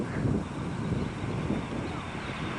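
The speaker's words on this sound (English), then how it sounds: "A little bit windy, but what the hell?" Constant buffeting wind rumbling against the microphone outdoors at McGuire Air Force Base, New Jersey, loud and steady with low gusty roar throughout, no talking.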